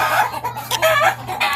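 A chicken clucks in short, close bursts over a steady low hum, loud and near.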